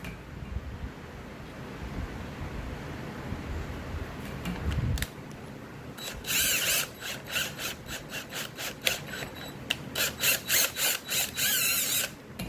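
Steel bolts being chased with a threading die for a forge burner support, a dry metallic rasping that pulses in short repeated bursts after a rougher grinding start, close and fairly loud.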